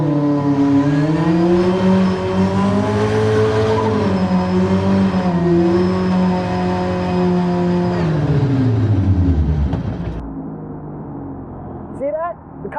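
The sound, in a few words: car doing a standing burnout, engine revving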